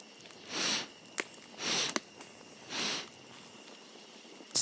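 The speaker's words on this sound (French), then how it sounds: "Faites maintenant 3 grandes respirations." Three deep, slow breaths taken one after another during a shamanic fire breathing exercise, each a soft, close, airy rush with short pauses between, plus a few faint clicks and no speech.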